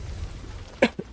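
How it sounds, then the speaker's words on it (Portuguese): A player coughs a couple of times close to the mic during a gameplay session, short harsh bursts following a stretch of quiet background. "Falei que eu ia continuar tossindo"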